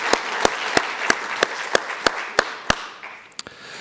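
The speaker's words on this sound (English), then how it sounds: "join me in giving a round of applause for those who put in the hours to make this" Audience applause at an evening celebration of Dr. King's legacy, heard as about nine evenly spaced, sharp claps ringing out in a steady rhythm before tapering into a few scattered final claps.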